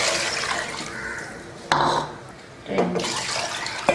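Water is poured into a cooking pot holding rice and lentils in two short splashing bursts, close by, with quieter background hiss in between.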